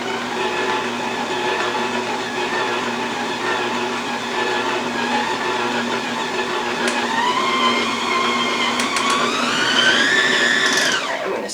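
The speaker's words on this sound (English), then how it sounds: "Now we just want to get this mixed until it's a smooth dough." A steady electric mixer whirs through molasses cookie dough, a continuous close motor hum with a slight rise in pitch near the end as the dough comes together.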